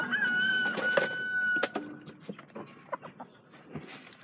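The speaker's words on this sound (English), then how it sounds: "Hello, chickens." Chickens on a farm cluster around a bag of food, giving a rooster's crow and a string of scattered clucks, close by with brief rustling noises.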